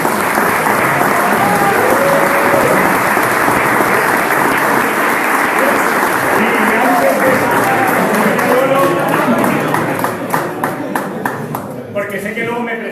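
A crowd at a homebrewing contest award ceremony breaks into loud, sustained applause with many hands clapping at once, fading near the end while voices chatter underneath.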